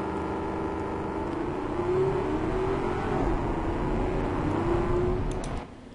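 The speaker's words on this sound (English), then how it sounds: "Also, the new engine sounds are really good." A V8 car engine in the racing game Automation runs in a long, steady drone at low revs, its pitch rising slowly and smoothly, fairly loud and close, before cutting off abruptly near the end.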